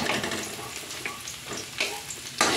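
Garlic browning in hot oil in a pan while cooking a Filipino fish sarciado, a steady close crackling sizzle with stirring scrapes and brighter bursts, no talking.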